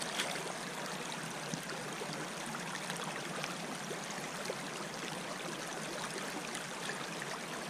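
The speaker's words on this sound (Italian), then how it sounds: "e poi si va veramente con l'acqua a lavare" Gold-panning mat being washed in the water of the Ticino river, heard as a continuous broad rush and trickle of flowing water, close and steady throughout with no voices.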